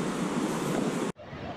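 Sea waves wash onto a beach at Timezguida, Morocco, heard as a steady, loud roar of surf and wind noise that cuts out briefly, then comes back softer.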